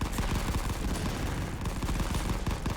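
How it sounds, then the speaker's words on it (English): Artillery strikes in the war video game Rising Front land amid dense gunfire: a continuous, loud barrage of rapid overlapping bangs and booms with no break throughout. "There's 2 more artillery strikes coming down right on top of us."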